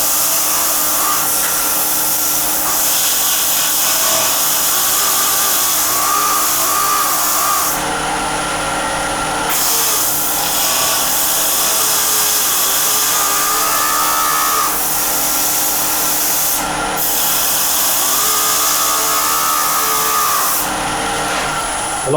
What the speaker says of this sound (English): Because I'm using the rotary sander, I'm going to turn the speed up slightly so it spins.